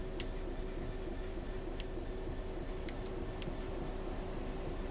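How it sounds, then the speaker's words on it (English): London Underground Bakerloo Line train in Train Sim World 5 rolling past at a steady pace, a continuous rumbling wheel-and-rail drone with faint clicks, heard at a moderate distance with no voices. "Oh, look at that! Bakerloo Line train."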